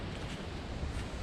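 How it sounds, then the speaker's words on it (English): Steady wind buffets the microphone with a continuous low rumble and rushing noise, no voices. "It's really windy today."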